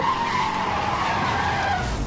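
A car brakes hard in Need for Speed: Hot Pursuit (2010), its tires letting out a loud, continuous skidding squeal that holds for a couple of seconds over racing engine noise.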